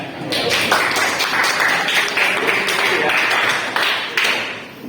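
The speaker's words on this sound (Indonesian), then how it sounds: "Tepuk tangan ya" An audience claps together at a school or university gathering in Jakarta, a loud, dense burst of applause that holds steady for about four seconds before tapering off.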